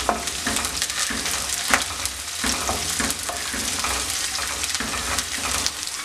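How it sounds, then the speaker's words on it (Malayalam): Spices sizzle in hot oil for a Kerala-style pineapple pickle, along with green chilies, curry leaves, ginger and garlic. A steady, close crackling fry carries on throughout with faint stirring, and no one speaks. "ഇതെല്ലാം നല്ലപോലെ ഒന്ന് മൂപ്പിച്ചെടുക്കാം"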